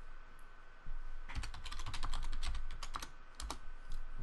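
Password being typed on a computer keyboard during an iOS app demo: a quick run of close, crisp key clicks in irregular bursts, alone without talk.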